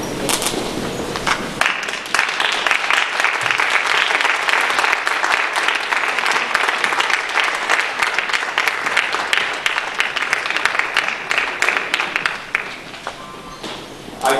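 High school graduates stand and applaud their parents at a graduation ceremony, producing sustained loud applause from a large crowd that swells after a quieter start, then tapers near the end.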